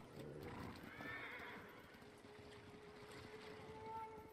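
A horse whinnies over steady clip-clopping hooves in the video game Ghost of Tsushima, with a soft ambient background throughout; a synthetic, game-like quality.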